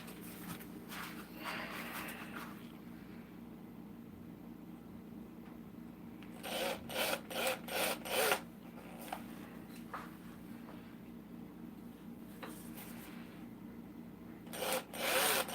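A wooden spinning top is sanded by hand in short, rhythmic bursts of rubbing and scratching, separated by quieter pauses, close to the microphone under a faint background hum.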